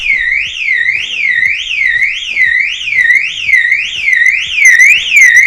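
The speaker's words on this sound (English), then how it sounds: "the alarm goes off, the indicators are flashing." A 2017 Toyota Proace van's security alarm wails loudly and continuously, a rising-and-falling electronic siren cycling in quick regular sweeps, close by with no talk.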